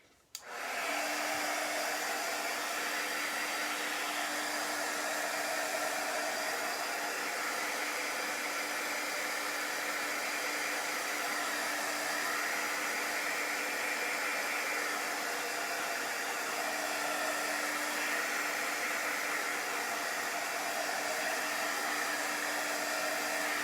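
Hair dryer drying chalk paste on a craft project, switching on abruptly and then blowing as a loud steady whooshing hiss with a constant motor whine, running alone throughout.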